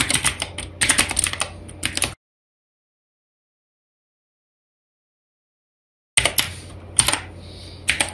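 Code is tapped out on a computer keyboard in quick bursts of clicking keystrokes, close and clear, with a few seconds of total silence in the middle before the typing resumes.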